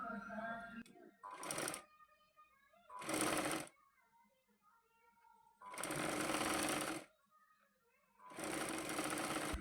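Sewing machine stitching a cross strip on a blouse runs in four loud bursts of a few seconds each, separated by quiet pauses, with a voice speaking briefly at the start.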